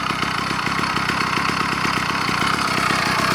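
A two-stroke motorized bicycle engine idles steadily, running very rich, with a rapid, even putter, close and continuous with no talking.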